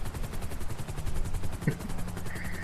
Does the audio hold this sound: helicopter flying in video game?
yes